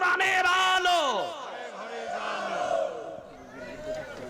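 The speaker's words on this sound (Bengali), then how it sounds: "চতুর্দিক থেকে আল্লাহু আকবারের আওয়াজ দেন" A large crowd at a Bangladeshi political rally shouts an Allahu Akbar takbir chant in unison, loud rising voices that swell and fall away, followed by a rougher, scattered roar of many people continuing at a distance.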